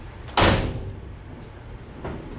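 A Ford F100 pickup cab door swung shut after a door seal adjustment, one firm, close thud with a short rattling tail, then a fainter knock about a second and a half later, with no voices.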